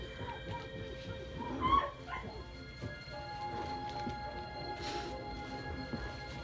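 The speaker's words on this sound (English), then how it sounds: "That dog is flipping the frick out." A dog barks and whines in the distance, a brief yelp standing out early on, then faint whimpering under a steady low room background.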